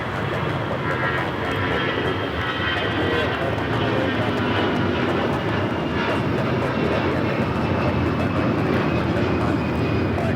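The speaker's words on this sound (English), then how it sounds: "That is Delta Airlines 1024 taking off to San Antonio on the A319" Delta Air Lines Airbus A319 taking off from LAX, a loud, sustained jet engine roar that stays strong and steady from start to finish, with some talk mixed in underneath.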